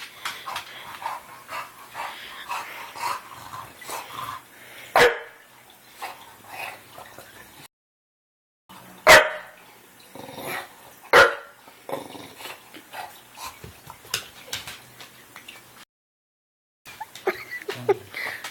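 A dog growls continuously with several sharp barks bursting through close by, broken by brief pauses, while a person talks to it quietly at times.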